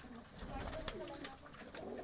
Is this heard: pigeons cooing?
yes